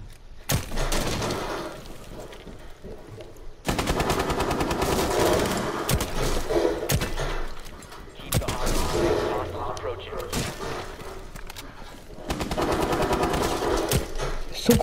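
Gunfire in Rainbow Six Siege, playing as Tachanka: dense bursts of automatic fire come in several loud stretches separated by brief lulls, with a voice speaking now and then.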